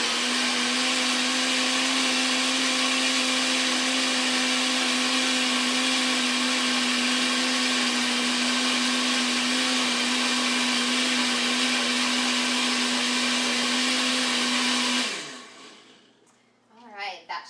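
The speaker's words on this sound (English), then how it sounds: "Alright, so we're going to blend it up one last time." A low-powered home blender whirs steadily for about fifteen seconds while blending a green smoothie, a loud constant motor hum that stops abruptly, followed by faint handling noises.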